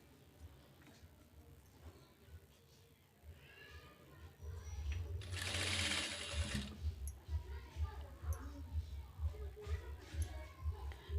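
Sewing machine stitching potli buttons onto a blouse, a steady mechanical whir that swells to a louder burst midway before settling into a rhythmic run, heard close and alone.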